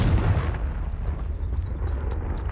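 Confringo fire-blast spell exploding in the Hogwarts Legacy video game, a loud, booming blast that rumbles and fades over a couple of seconds.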